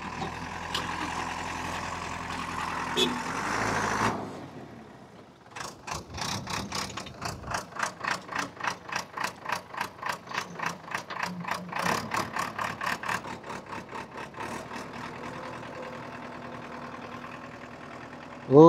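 A JCB machine pulls a stuck car out on a Ladakh mountain road. An engine note sounds first, then a long run of steady, rhythmic mechanical chugging pulses that settles into a lower, even hum.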